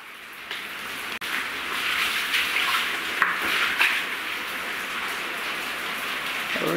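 Rain pours steadily during a rainstorm in Puerto Rico, a dense, even hiss of drops on surfaces that stays constant throughout, with a couple of slightly louder spatters and no talking.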